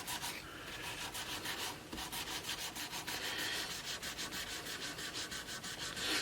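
Cloth rubbing over a koa wood guitar body, a close, steady run of rhythmic swishing strokes that continues alone for several seconds.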